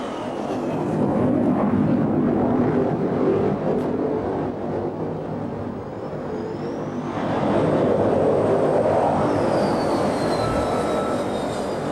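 A loud, sustained jet roar fills a carrier flight deck as an aircraft lands and catches the arresting wire, dipping midway then surging again with a thin whine above.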